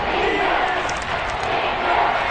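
A dense stadium crowd roars loudly and steadily in a Madden NFL football video game during a Texans matchup, a continuous wall of cheering with no break.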